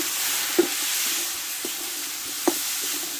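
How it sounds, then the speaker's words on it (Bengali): Fish head, pumpkin, turmeric and salt sautéed together in a pan, giving a soft steady sizzle broken by a few sharp spoon taps and scrapes, close and without voices. "একসঙ্গে কষে নেব।"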